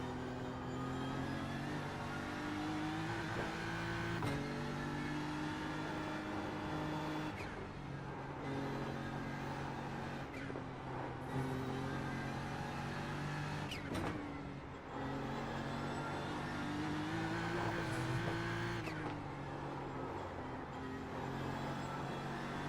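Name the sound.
race car engine in a racing video game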